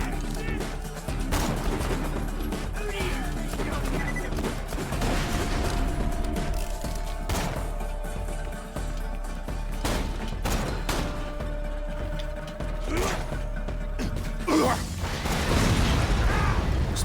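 Gunfire from shooting in Borderlands 2, with a continuous dense barrage of pops and bursts running the whole length, and occasional heavier blasts mixed in under game noise.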